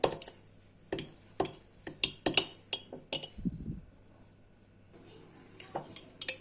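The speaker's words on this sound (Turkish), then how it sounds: "elma ya da üzüm sirkesi bir tatlı kaşığı ölçümüz yine onu da koyup arkadaşlar iyice bir karıştıralım" A spoon stirs a spoonful of apple or grape vinegar into a mixture in a container, making a homemade natural roll-on deodorant: irregular light clinks and ticks against the container, close and fairly quiet, with a soft muffled scrape partway through.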